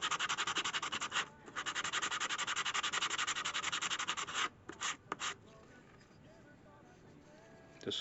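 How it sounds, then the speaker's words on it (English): Knife handle scales are sanded along the front edge in quick rhythmic back-and-forth rasping strokes, close and steady, with brief pauses, then quieter scattered rubbing. "So what I'm going to do now is I'm going to sand the front edge"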